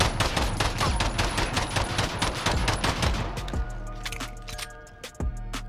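Rapid Glock pistol fire in Call of Duty Modern Warfare, a fast run of loud, dense shots with recoil controlled, then a brief pause and a few scattered shots with faint mechanical clinks.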